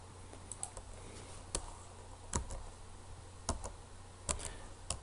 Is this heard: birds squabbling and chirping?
no